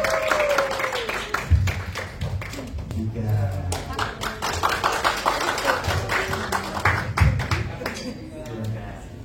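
Concert audience applause at a Westlife featuring Judika show in 2023: dense, steady clapping fills the whole stretch while a host's voice talks over it.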